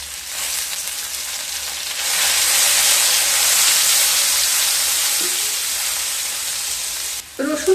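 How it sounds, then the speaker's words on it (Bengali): Crushed garlic and whole cumin fry in hot oil with a loud, steady hiss that swells after a couple of seconds and holds, ending with a few close knocks of stirring. "রসুন হালকা ভাজা হয়ে গেলে"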